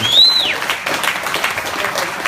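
A fundraiser crowd applauds motocross riders, clapping steadily and loudly throughout with a few cheers. A brief whistle rises near the start, and a voice talks over the clapping.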